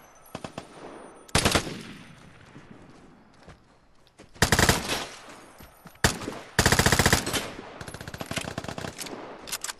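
Video game gunfire comes in repeated automatic bursts, loud and close, with shorter pops in between and one long sustained burst near the end.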